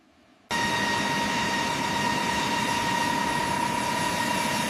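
Large helicopter engine spooling up in its start sequence, bursting in abruptly from near silence into a loud, steady broadband roar with a sustained whine, close and constant.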